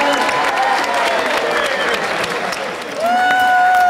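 A poker room audience at the 2006 World Series of Poker Main Event breaks into dense, sustained applause mixed with cheering and whistles, loud and close throughout.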